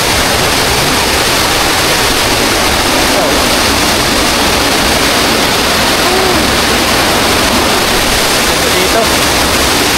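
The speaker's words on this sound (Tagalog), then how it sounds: "Maragasa ang tubig ngayon dito." Water thunders down Aliw Falls near Taytay in a strong, swollen flow, a loud, steady broadband roar filling the whole stretch without pause, with faint talk buried beneath it.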